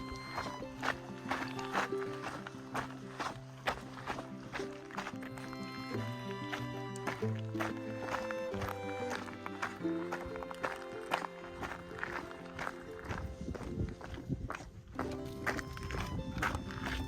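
A horse walks along a dirt trail on the Arizona Trail, Passage 14. Its hoofbeats thud in a steady, unhurried rhythm close by for the whole stretch.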